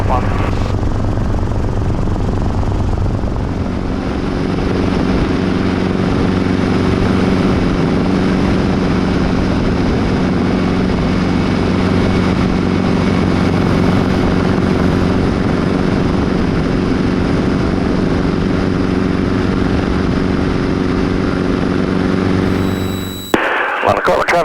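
A Schweizer S300 (H269B) helicopter flies and lands at London-Corbin airport, with a continuous close rotor and engine drone throughout, radio chatter over it and a sharp clatter near the end.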